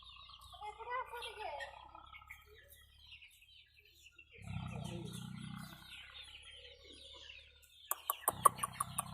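Chickens cluck and chirp on a rural chicken farm, with scattered bird calls, a brief low rumble in the middle and sharp clicking taps near the end, all fairly faint.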